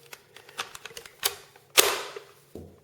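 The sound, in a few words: Brother P-touch label maker printing and feeding tape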